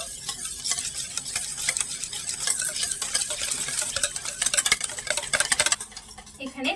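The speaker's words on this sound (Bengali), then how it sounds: "ভালো করে একটা হুইক্স দিয়ে নেড়ে ছেড়ে মিশিয়ে নেবো" A whisk works yogurt and mango pulp together in a bowl, producing rapid repeated scraping and tapping strokes close by, busiest toward the end, with no talking.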